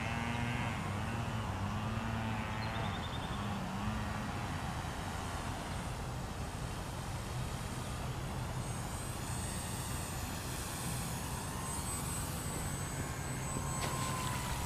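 An E-Flite Timber RC airplane comes in to land with full flaps over a river in the early morning, its small electric motor a faint, distant steady drone drifting under wind noise.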